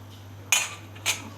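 A spoon stirring lemon-topped drinks in glasses gives two short, faint clinks about half a second apart over a steady low hum.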